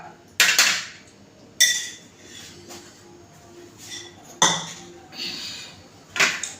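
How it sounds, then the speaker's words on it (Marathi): Cooked tomato and onion scraped from a pan onto a plate, giving a series of five or six sharp metallic clanks and scrapes at irregular intervals, close and fairly loud, with no speech. "आता एका ताटामध्ये काढून घेते"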